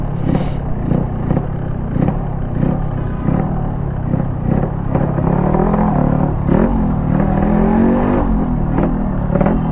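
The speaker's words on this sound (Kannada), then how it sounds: "ಸೌಂಡ್ ಹೆವಿ ಆಗೋಗಿದೆ ಗುರು, ಕ್ರ್ಯಾಂಕಲ್ಲೆಲ್ಲ ಸೌಂಡು" The engine of a vehicle called Dulari, running with a heavy crank noise: a loud, close, steady rhythmic thumping and clatter that rises slightly in pitch partway through.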